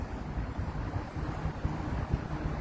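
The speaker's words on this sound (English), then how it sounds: "so wind is always blowing" Steady wind roars and buffets against the microphone on the Chicago lakefront by Lake Michigan on a sunny day, a continuous low rumble with no voices.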